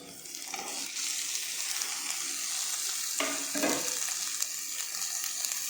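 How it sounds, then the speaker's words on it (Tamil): Onion sautéing with carrots and beans in a pan gives a continuous bright sizzle throughout, with a couple of louder bursts and scraping stirs partway through, and no voices. "வெங்காயம் வதங்கிடுச்சு. இப்போ வந்து கேரட்டும் பீன்ஸையும் சேர்த்துக்கலாம்."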